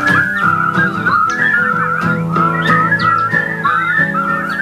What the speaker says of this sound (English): was alive with the sound of whistling